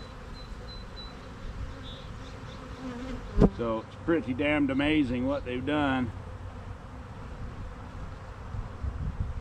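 Honeybees in a queenright cell starter hive hum in a steady buzz that continues before, during and after a man's nearby speech.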